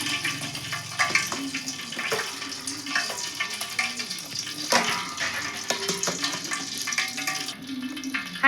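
Oil heating in a pan for street-style egg noodles gives off a steady, close sizzle and crackle with a few sharper pops and light clatter throughout.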